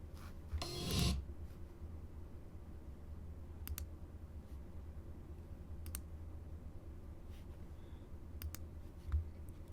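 Computer mouse clicking while scrolling, faint sharp clicks spaced a few seconds apart over a low steady room hum, one louder rustle near the start, no talk.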